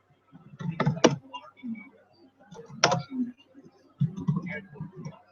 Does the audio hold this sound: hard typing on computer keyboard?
yes